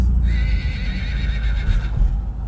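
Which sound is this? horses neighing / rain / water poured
horses neighing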